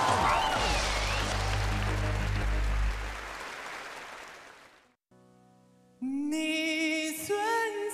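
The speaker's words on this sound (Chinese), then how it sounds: "掌声有请" Audience members at a TV singing challenge show applaud warmly for several seconds over low music, the clapping fading away before a gentle instrumental intro starts.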